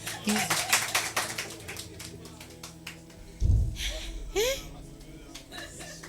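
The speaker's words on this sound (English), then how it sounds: "Wanna clap for me now?" An audience at a talk on overcoming worry gives a brief burst of sharp claps at the start, which quickly thins out into scattered sounds and a low thump.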